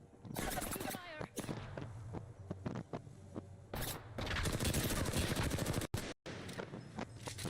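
Rapid weapons fire in a space combat video game comes in dense, loud bursts, stacked with crackling impacts and electronic effects, and breaks off into short silent gaps.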